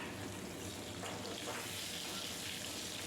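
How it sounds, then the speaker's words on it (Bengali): Potato pieces coated in salt, turmeric and chili powder sizzle as they fry in hot oil left from frying fish, a steady crackling hiss with no talking. "ওই তেলের উপর আলুগুলো যে মেখে রেখেছি সেগুলো দিয়ে আলুগুলোও একটু ভেজে নেব"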